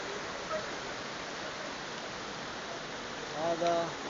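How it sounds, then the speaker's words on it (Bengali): Heavy rain pours steadily in Mecca, Saudi Arabia, a dense unbroken hiss, with a faint voice briefly audible near the end. "অনেক বৃষ্টি হয়েছে, অনেক বৃষ্টি। সৌদি আরবের বৃষ্টি অনেক।"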